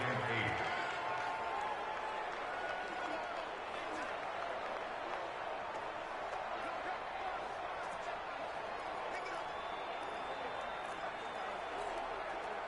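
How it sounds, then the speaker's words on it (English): A football stadium crowd roars steadily through an NFL game between the Jacksonville Jaguars and the Arizona Cardinals, a dense, sustained wash of cheering with no breaks, and a voice can be heard over it briefly. "the crowd getting into it as we come up on a big 3rd down"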